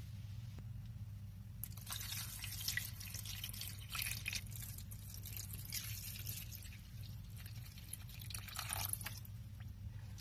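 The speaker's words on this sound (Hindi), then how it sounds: "और अब हम इसके अंदर पानी डालेंगे" Water is poured into a cooking pot for mutton yakhni, a steady splashing and trickling stream that runs for several seconds over a low kitchen hum, with no one speaking.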